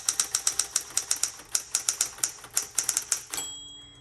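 Typing on a 1960s Smith Corona Electra 210 electric typewriter: a quick, regular run of sharp key strikes, close and loud, ending in a carriage return with a fading mechanical whir.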